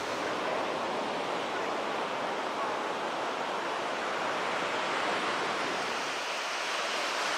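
Ocean surf rolls steadily onto a long 3.8 km sandy beach, a continuous broad wash of breaking waves with a little wind, close and even throughout without a break.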